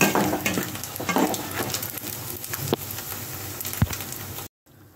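Shrimp frying in a pan give off a loud, steady sizzle with crackling pops and occasional stirring clinks, with no talking, ending in a brief silence.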